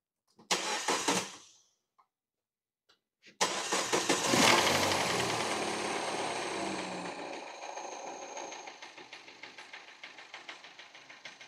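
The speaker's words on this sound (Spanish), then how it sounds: "Dale arranque." A Citroen C4 THP petrol engine cranks in a short burst, pauses, then catches and starts, settling into a steady, fairly loud idle with a faint whine on top.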